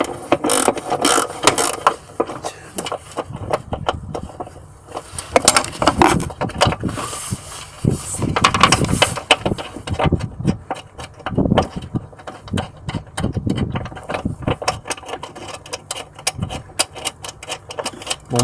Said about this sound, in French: Est-ce que mon cliquet passe sans la rallonge?